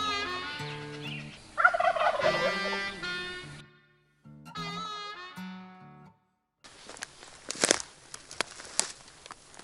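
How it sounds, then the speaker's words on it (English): A wild turkey gobbles in two loud, rattling bursts separated by a short silence, followed by rustling and crackling noises close by. "One could just be like an owl hoot or a turkey gobble."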